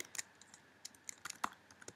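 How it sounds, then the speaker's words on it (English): Quick, uneven keystrokes clatter on a computer keyboard while someone builds a web page, scattered soft taps with a few sharper clicks over about two seconds, close and fairly quiet with no talk. "if I can type"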